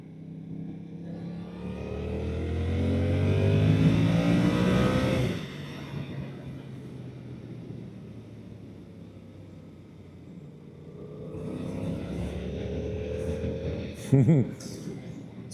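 A Yamaha R7 motorcycle being ridden, its engine rising to a loud rev, then easing to a lower drone before building again, with a rider talking over it.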